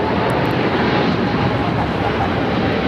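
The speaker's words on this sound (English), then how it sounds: "This is Japan Airlines Flight 15 taking off to Tokyo Haneda on the 777-300ER." Engine roar from a Japan Airlines Boeing 777-300ER on its takeoff run at LAX, a steady, loud and dense rumble throughout the short stretch, with no voices over it.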